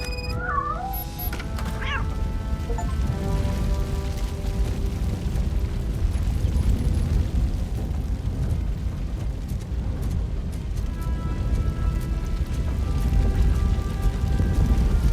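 A fire burns in Robocop: Rogue City as a steady, dense roar that holds throughout, with a few brief tonal game sounds near the start.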